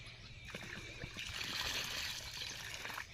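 Water trickles and splashes steadily as it is poured onto a tulsi plant outdoors in a village yard, a continuous close pouring sound with faint background noise.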